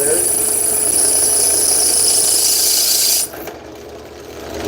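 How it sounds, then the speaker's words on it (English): A power drill runs continuously into hard material with a worn-out bit, a loud, steady high-pitched grinding whine for about three seconds that abruptly cuts off, leaving a quieter rumble. "Or that drill bit's worn out."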